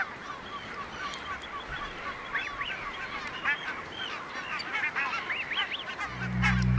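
Parent water birds call to their chicks away from the nest on a river wetland in the Netherlands, a series of repeated honking calls, fairly close, over steady outdoor background noise.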